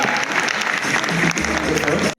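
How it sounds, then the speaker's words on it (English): Audience applause at a business growth conference, a loud, dense wash of clapping from a crowd that fills the moment steadily before cutting off abruptly at the end. "A round of applause."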